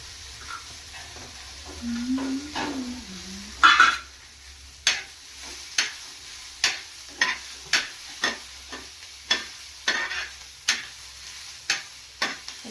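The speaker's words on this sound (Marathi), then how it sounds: "छान लालसर होईपर्यंत कांदे छान शिजवून घ्यायचे." Onions frying with cumin in a pan give a soft, low sizzle, with a steady series of light taps about every second as the pan is stirred.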